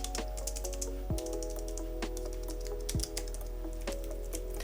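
Steady typing on a Logitech MX Keys Mini compact keyboard, a fast run of close, soft key clicks over a low constant hum, with two heavier thumps along the way.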